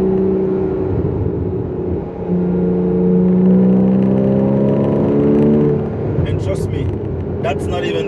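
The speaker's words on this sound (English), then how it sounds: "it's like the exhaust is also a little bit louder." Exhaust note of a Porsche 981 Cayman S while driving at around 4000 RPM, a steady droning hum that rises in pitch through the middle and then eases off, under occasional talk.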